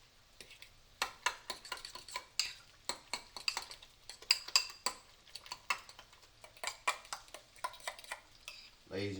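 A spoon clinks and scrapes rapidly against a bowl while homemade vegan tartar sauce with lemon juice is stirred, the close, brisk taps coming in an uneven rhythm, with a short low thump at the end.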